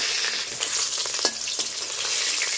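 Small fish frying in oil in a home kitchen, a steady crackling sizzle with a few louder pops and stirring scrapes, close and continuous.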